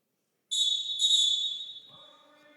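A referee's whistle at a high school wrestling match, two sharp shrill blasts close together, the second running longer before fading under faint background talk.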